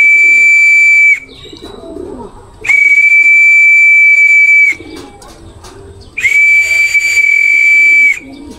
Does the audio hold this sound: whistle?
yes